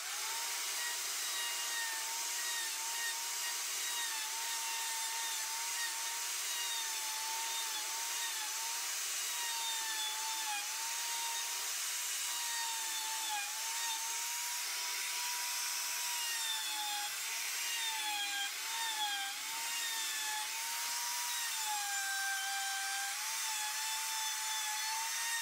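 A half-inch bit cuts a track through wood on a portable bench, a steady, loud, continuous whine of the power tool running alone without pause for the whole stretch.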